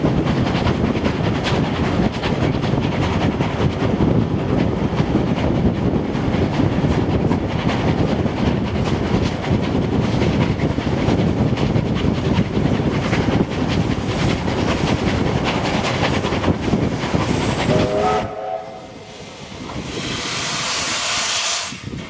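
Train 3642 travels toward Loftus station in New South Wales, a steady loud rumble with hissing steam and rail noise running continuously, then dropping abruptly near the end to a quieter hiss with a brief higher tone.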